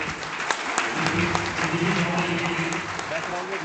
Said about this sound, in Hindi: एक जोरदार तालियां फिर से हमारे